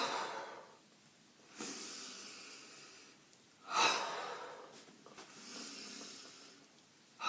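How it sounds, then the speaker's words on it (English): Forceful breaths during an energy exercise, with a long inhale and exhale followed by a sharp, loud outbreath burst and another drawn breath, close and alone. "So breathing in"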